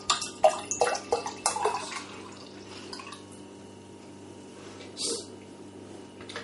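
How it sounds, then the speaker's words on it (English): Quantock Ale beer poured vigorously from a bottle into a glass, with splashing and liquid gurgles at the start that ease into a soft fizzing trickle, a brief louder splash coming near the end. "I'm just going to give it a bit of a rigorous pour."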